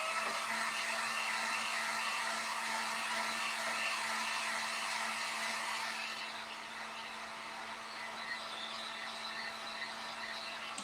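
A hair dryer blows steadily to dry paint on a wooden candy corn decoration, a loud, continuous whooshing hum that drops a little in level partway through, with no talking.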